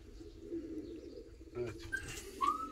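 Van tumbler pigeons coo softly inside a loft, with low, faint murmuring coos and a few brief higher chirps, while a voice is faintly heard nearby.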